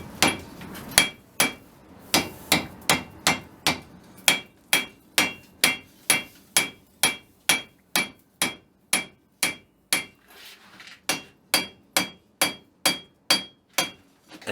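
A forged steel bar, started as quarter-by-one stock, is drawn out under sharp metallic hammer blows on an anvil, struck in a fast, near-regular rhythm of several dozen ringing hits with brief pauses between runs.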